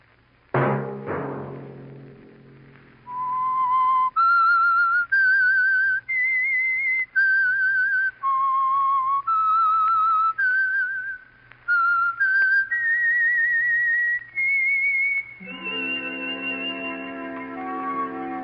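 The theme tune of the radio show The Whistler, whistled in clear, sustained notes that step up and down, with a slight echo; a fuller, lower tone takes over at the end.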